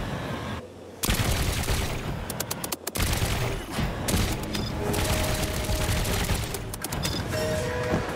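Cannons on a player-built airship in Trailmakers fire in rapid, loud volleys of booming shots that come close together, with a brief gap before heavy barrages resume.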